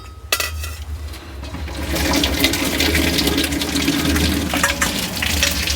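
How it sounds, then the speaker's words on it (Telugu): Boiled potatoes tipped into a metal strainer, water gushing and splashing down steadily with a few clanks of the pan at the start, close and fairly loud. "ఇవన్నీ స్టెయిన్ చేసుకోవాలి. వాటర్ అంతా మనకి ఈ ఆలుగడ్డల నుండి పోవాలా"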